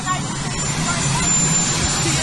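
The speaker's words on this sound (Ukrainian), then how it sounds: "Ми чуємо, що там гул літака, з якого тільки но зійшов Байден." Aircraft engine hum beside the plane that a president has just left, a steady broad roar filling the background while reporters shout and talk over it.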